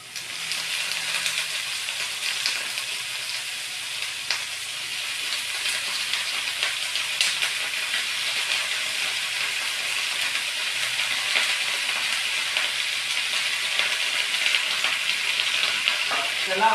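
Chopped raw nendran plantain for thoran frying in a pan with curry leaves, a continuous bright sizzle with occasional soft taps of stirring, close and steady with no talk.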